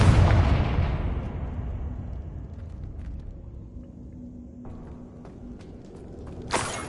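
A Confringo spell explosion in Hogwarts Legacy opens with a loud, rumbling blast that slowly rolls off into a long fading decay, followed near the end by a short, sharp burst, with no one talking.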